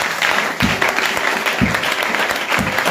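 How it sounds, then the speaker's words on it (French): A church congregation applauds and cheers in acclaim of the Lord, a steady wash of clapping with a few louder bursts, close and continuous throughout. "Est-ce que tu peux acclamer le Seigneur?"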